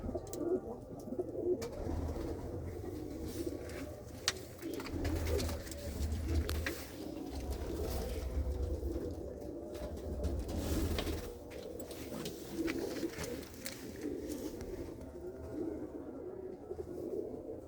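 Pigeons in a breeder's loft coo steadily in low, overlapping murmurs throughout, with occasional wing flutters and small knocks nearby and no talking.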